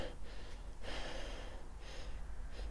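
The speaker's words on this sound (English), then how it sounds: "Wait, I'll try to sniff them again." Repeated nasal sniffs of a Vilhelm Parfumerie perfume, close and breathy, in a few distinct inhalations spaced about a second apart with no talking.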